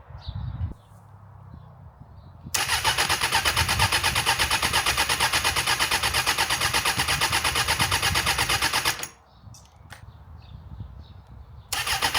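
An abandoned Suzuki Bandit motorcycle's starter cranks steadily for about six seconds without the engine catching, then cuts off, leaving quieter background noise.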